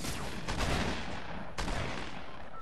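Gunfire in the video game Fortnite, a dense, continuous stretch of rapid shots with two sharper bursts standing out, loud and close throughout.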